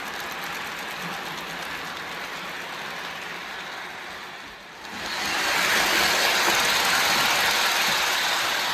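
An O gauge model train engine's small motor whirs steadily with a mechanical ratcheting hum, growing louder and brighter about halfway through as it picks up speed.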